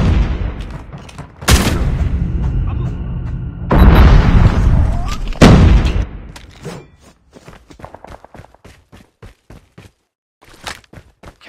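Frag grenade blasts in a multiplayer shooter game erupt as several loud, booming bursts, followed by a fading rattle of scattered gunfire and footsteps, with a voice shouting over the action.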